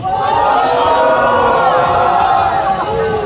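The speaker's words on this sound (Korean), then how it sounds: "선봉의 함성 부탁드립니다" Large outdoor candlelight rally crowd roaring a sustained collective cheer and battle cry, loud and continuous throughout, with many voices blending into a dense, close wall of shouting.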